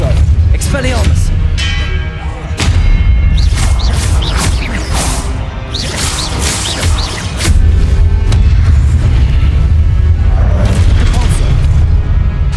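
Repeated Expelliarmus spell blasts in Hogwarts Legacy, a run of loud booming impacts and whooshes in dense combat, with spoken incantations over the din.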